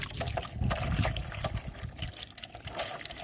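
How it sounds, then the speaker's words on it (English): Fresh water pours and splashes steadily into an animal water container in a tropical garden, a continuous close trickling gush with no talking. "just changing their water. I'm sure they have clean, cool water."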